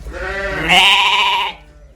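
A single loud, wavering bleat from a lamb close by, lasting about a second over a quiet background.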